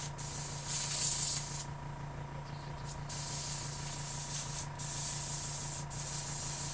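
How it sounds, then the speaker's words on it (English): An airbrush spray gun sprays pre-thinned green craft paint onto a tumbler, giving a steady close hiss broken by a few short pauses and bursts. "Put some in the spray gun, airbrush."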